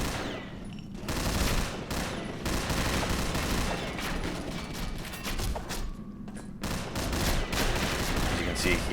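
Assault rifle fire in the Combat Arms video game rattles in dense, continuous bursts, loud and close, with overlapping shots and game effects filling nearly the whole stretch and only brief gaps between volleys.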